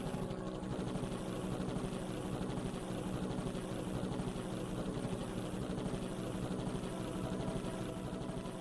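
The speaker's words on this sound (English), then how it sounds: "I'm glad it's an autopilot helicopter." An autopilot helicopter in the video game Danganronpa: Another flies with a steady, continuous rotor and engine drone that holds an even loudness throughout, with no talking over it.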